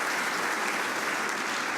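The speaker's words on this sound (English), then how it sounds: "how about a big round of applause for Stuart MacLay?" Audience applause for Stuart MacLay of East Valley Disaster Services fills the room, a dense, steady burst of clapping that holds loud from start to finish with no talk over it.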